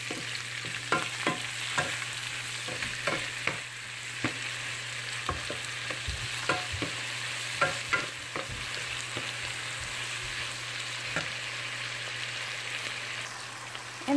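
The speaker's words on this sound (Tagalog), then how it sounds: "Tapos, haluin na natin siya along with the pork." Pork with bagoong and onions sizzles steadily in a pan while a utensil stirs it, scraping and tapping irregularly against the pan, no voices.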